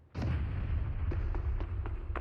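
Gunfire in the mobile shooter game Delta Force, with a single heavy shot followed by a spaced series of quieter cracking shots over a low rumbling background.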